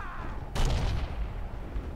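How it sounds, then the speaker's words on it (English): A single heavy, booming burst of Maschinengewehr machine gun fire from Forgotten Hope 2 rolls out loud and fairly close, then rumbles on as a long echoing tail. No voices. "Got killed with machine gewehr."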